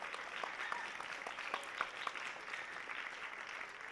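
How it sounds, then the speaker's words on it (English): Audience at a lung cancer talk applauding the organizers: a steady, fairly soft wash of clapping from a crowd that carries on through the whole stretch, with a few sharper individual claps standing out. "Again, a round of applause for the organizers."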